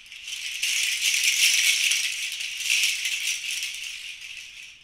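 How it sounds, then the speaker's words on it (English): Rattles made from dried plant seed pods, shaken steadily for about five seconds, giving a continuous bright, dense crackling rustle at fairly close range with no voices. "These pod rattles are made out of dried out seed pods from plants."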